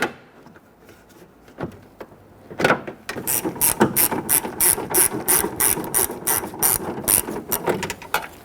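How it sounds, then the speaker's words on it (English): A 1/4 inch ratchet turning a 10mm socket on a swivel clicks rapidly and rhythmically while loosening a bolt on a 1992-1996 Toyota Camry rear door, close up, after a few scattered handling knocks. "I'm going to use a 10mm socket on a swivel. This is my 1/4 inch gear."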